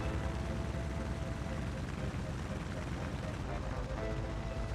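A small airplane descends in flight, its engine and propeller making a steady, loud drone with wind rush that runs throughout, and a voice talks over it.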